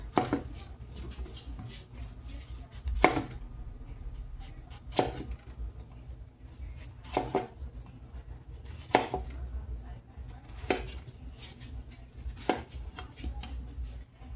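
A knife slicing a ribeye steak at an angle on a cutting board, sharp regular chops roughly every two seconds, close and clear against quiet kitchen background.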